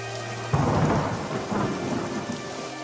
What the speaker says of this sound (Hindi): बारिश थी कि रुकने का नाम तक नहीं ले रही थी